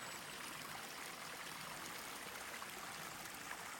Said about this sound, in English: You got some water flowing.